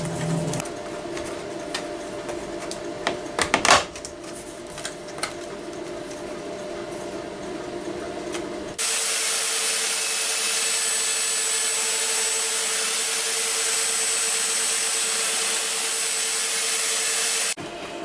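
A CNC router cuts with a new air nozzle cooling the bit, first with scraping, rubbing cutting noise, then a loud steady broadband hiss and whine that runs unbroken until the end.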